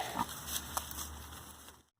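A pig grunts softly at close range on a farm, a short burst of low snorting oinks that trail off into silence.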